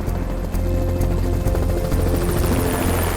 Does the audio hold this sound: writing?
no